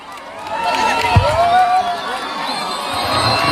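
A crowd at a school annual day cheers and claps, a dense continuous roar of voices with shouts, while a voice calls out over the noise.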